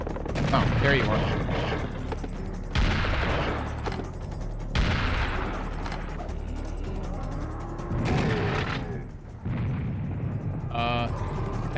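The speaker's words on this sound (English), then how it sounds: "That was definitely a bull noise." Gunfire and explosive blasts in the Serious Sam: The First Encounter shooter, a double-barrelled shotgun among the weapons, several loud bursts separated by short gaps, with a bull enemy's bellow in the mix.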